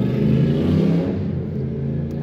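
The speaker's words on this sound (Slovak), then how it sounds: "môžete počuť, že sme proste v Dubaji, proste chodia tu drahé autá, drahé motorky" Expensive cars and motorbikes drive past on a Dubai street: a close, loud engine rumble and rev sweeps by, then eases into a steady whir.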